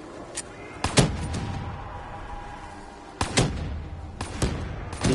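Pistol gunfire in Call of Duty Black Ops 3 Zombies on the Giant map: sharp shots spaced irregularly, several in quick pairs, over a low game ambience with no talk.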